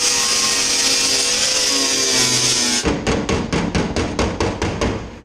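Sheet metal for a car door being reworked: a few seconds of loud grinding or welding hiss, then a rapid run of about ten sharp metallic hammer strikes at an even rhythm, close and loud.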